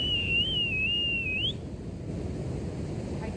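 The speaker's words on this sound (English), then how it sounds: "let me just whistle my dogs here because I don't see them" A person whistles outdoors to call dogs, giving one sustained, wavering high whistle lasting about a second and a half before it stops and only quiet background noise remains.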